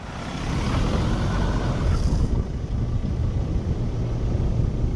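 A Ford Ranger pulls away across soft beach sand with a steady, loud broadband roar of engine and rushing wind that fills the whole stretch without a break.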